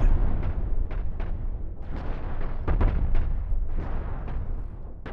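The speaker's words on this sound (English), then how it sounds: "I'm just gonna barely get in range of that front cannon and then just fire into it." Repeated cannon fire from a pirate base in the space game Cosmoteer, with booming shots and explosions at irregular intervals, fairly dense and loud, mixed with ongoing game effects.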